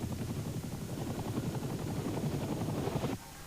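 A helicopter carrying an ambassador lands on a football pitch in Kuwait, its rotor thumping rapidly and loud with a steady roar that cuts off sharply near the end.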